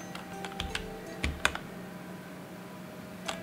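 Computer keyboard keys are pressed in short clusters of sharp clicks while a game runs, several quick taps near the start followed by quieter gaps and one last tap, over a faint steady electronic hum.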